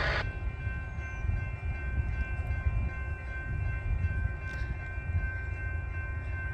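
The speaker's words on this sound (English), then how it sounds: "I thought I heard an Amtrak horn, and I think that's what this is." Amtrak passenger train passing on a Union Pacific line, a low, continuous rumble of wheels on rails with faint, steady horn tones held throughout, heard from a distance outdoors.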